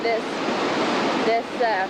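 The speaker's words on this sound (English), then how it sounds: "We're at Lahardy Rapids" Rapids on the Yellowstone River at the Yellowstone Lake outlet rush in a steady, loud roar of broadband water noise, with brief high chirps over it.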